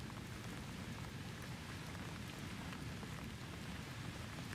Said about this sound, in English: the rain drumming on the tin roof above you